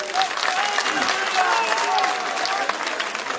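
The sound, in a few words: applause at political rally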